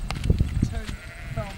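Sheep on a farm at Hobbiton in Matamata, New Zealand, bleat in short nasal calls close by, with several bleats over a second and a half amid outdoor murmur.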